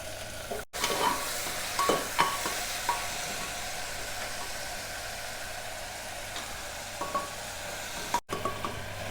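Onion, tomato and green chili frying in hot oil for a simple pressure-cooker biryani, a steady soft sizzle with a few stirring clinks, close and continuous with no talk.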